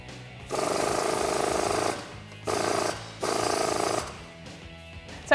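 A ratchet or power tool driving a 19mm socket on a bolt of a Jeep Wrangler JL lift kit install, three grinding whirring bursts of one to two seconds each with short pauses, close and fairly loud, no talk.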